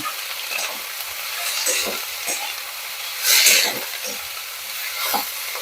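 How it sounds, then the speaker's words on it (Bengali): Green peas fry in hot oil for a vegetable cheese ball mix, giving a continuous soft sizzle with spoon stirring scrapes and a brief louder hiss midway. "ভেজে নেব"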